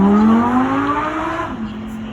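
An Audi R8 V10 celebrating ten years of the model passes by at a drive-by event. The engine is loud and revving, its pitch sliding down as it passes and fades, with crowd noise faintly behind.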